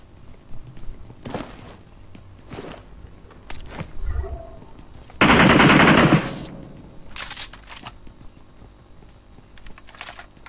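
Automatic gunfire in the mobile battle-royale game PUBG Mobile: one loud, sustained burst of rapid shots lasting about a second, with scattered sharper single cracks and clicks before and after.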